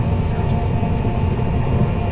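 A Northern passenger train travels from Manchester Airport toward Liverpool Lime Street, heard from inside the carriage as a loud, steady low rumble and drone of wheels and motor.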